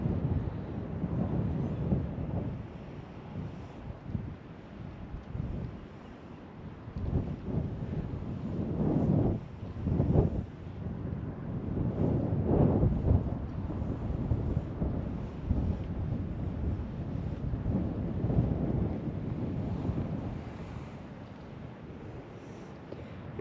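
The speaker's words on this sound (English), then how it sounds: "Crazy windy" Strong wind buffets the microphone at the top of a lookout tower in continuous low rumbling gusts, swelling and easing throughout with no voices present.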